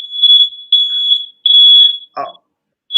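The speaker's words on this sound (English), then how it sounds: "You set the fire alarm off, Bobby." A fire alarm blares loudly in a piercing, high electronic tone, pulsing in three long beeps with short gaps, while a brief voice cuts in near the end.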